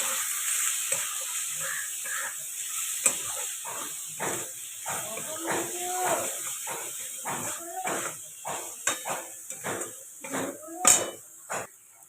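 Turmeric and chili powder being fried and stirred in a pan, repeated clinks and scrapes of a utensil against the metal over a soft background hiss, close and irregular, without talk.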